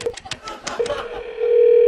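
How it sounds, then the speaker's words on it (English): A steady ringback tone on an outgoing phone call from a TV talk show, a sustained electronic hum rising at the end after brief talking and noise at the start. "Okay, it's ringing."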